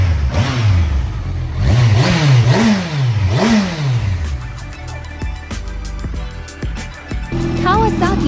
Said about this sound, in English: Kawasaki Versys 1000 SE. Inline for Flatplane engine sound check.